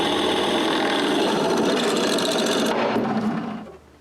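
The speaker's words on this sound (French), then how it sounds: "Quand c'est tout coupé, il faut percer tous les trous." A drill press bores holes through metal plates cut for shelter anchors in a workshop, a steady loud grinding drone that runs continuously, then winds down near the end.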